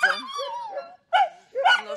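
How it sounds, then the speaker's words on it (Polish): A dog barking sharply at an animal shelter, several short high-pitched yelps and barks separated by brief pauses, close and fairly loud. "Taki ma ostry szczek."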